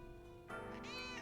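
A cat gives a single clear meow, rising then falling, fairly close and alone over a quiet background.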